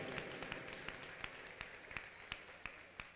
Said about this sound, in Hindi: सभी से कहूंगा तालियां बजा के मंत्री जी का अभिनंदन करेंगे